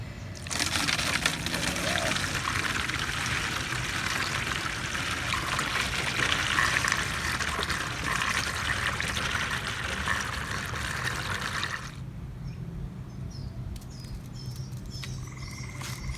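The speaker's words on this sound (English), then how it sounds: "I'm going to send this coolant or save it for recycling. Hopefully I can get it in here properly." Spent engine coolant from a Toyota Celica S-FE cooling system pours steadily through a funnel into an empty bottle, a continuous close gurgling trickle that stops abruptly near the end.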